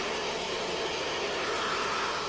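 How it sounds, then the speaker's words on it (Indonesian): A hair dryer used as a therapy device blows a steady, close airy whoosh, with a constant broadband hiss and no talk over it. "Ini hair dryer maksudnya."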